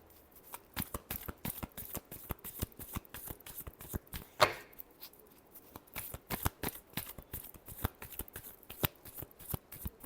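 Tarot cards are shuffled close and quietly in a fast, steady run of crisp riffling flicks, with one louder slap partway through.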